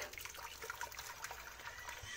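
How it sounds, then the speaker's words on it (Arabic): Very hot water being poured into a cooking pot in a home kitchen while making mug cakes, a steady close splashing pour that runs through the whole moment. "الحله دي هضيف عليها ميه سخنه جدا اهي"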